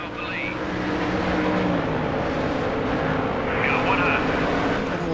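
A race car engine in a racing video game drones steadily throughout, with a rising whine near the start and again toward the end, running loud and continuous as the car works through a turn.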